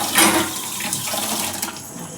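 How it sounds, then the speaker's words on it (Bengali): Water runs from a tap into a bottle, a steady close rushing splash that holds at one level throughout without any talking. "বোতলে জল ভরবো"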